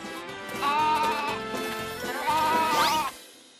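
A cartoon goat bleats in a few long, wavering cries one after another, close and fairly loud, with faint music in the background.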